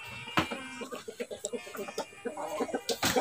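Chickens clucking in a rural yard at feeding time, with a run of short, rhythmic clucks close by and a voice speaking briefly over them.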